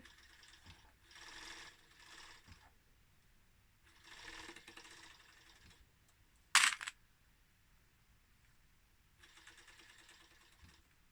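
An overlocker sews fabric and elastic together in several short whirring bursts separated by pauses, with one sharp loud click midway, all close and fairly quiet.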